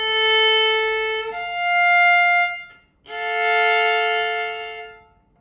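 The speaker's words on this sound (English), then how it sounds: "Next up, we have a minor 6, which is 8 half steps. This is a consonant interval like this." Solo violin playing a minor sixth: a lower note, then a higher one, then both bowed together as a sustained chord, clear and close with no talking.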